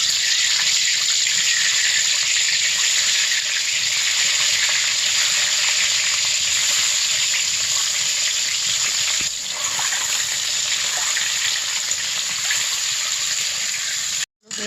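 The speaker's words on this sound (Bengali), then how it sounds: "এখানে ডিম রেখেছি আর আলু রেখেছি এগুলো একটু ভেজে নেব তখন আমি ডিমগুলো ভেজে নেব" Eggs and potatoes frying for dum biryani over a clay earthen stove, a steady loud sizzle and crackle running without a break until a brief drop-out near the very end.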